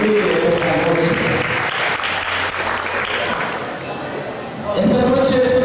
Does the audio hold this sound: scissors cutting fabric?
no